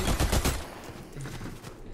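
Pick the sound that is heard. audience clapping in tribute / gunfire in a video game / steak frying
gunfire in a video game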